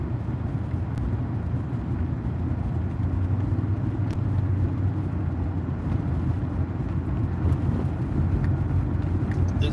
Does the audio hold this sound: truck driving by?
yes